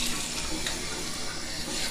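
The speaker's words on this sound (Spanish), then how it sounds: "a posteriori realizaremos un purgado de los grifos" Water runs steadily from an apartment tap being purged as part of legionella prevention, a continuous loud hiss and splash with no break.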